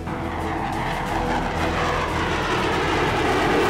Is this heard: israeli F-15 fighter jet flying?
yes